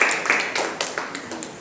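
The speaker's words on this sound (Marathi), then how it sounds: "टाळ्या वाजवा तिच्यासाठी" Children in a Marathi-medium classroom at Pandit Jawaharlal Nehru Vidyalaya, Akulkhede, clapping for a classmate in a short, scattered, fairly light patter of claps over faint background noise.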